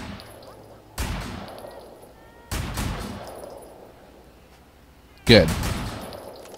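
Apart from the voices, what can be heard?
gunshots fired in celebration in the video game Sleeping Dogs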